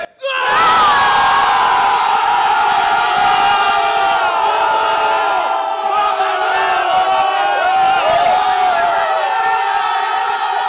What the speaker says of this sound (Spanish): Vamos a gritar gol a la de tres